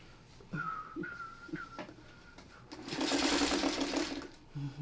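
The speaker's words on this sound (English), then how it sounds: "we're going to get that all sewn together" A sewing machine stitches zipper pieces together, running in a loud steady burst of about two seconds, with softer faint whirring and short whistle-like tones before it.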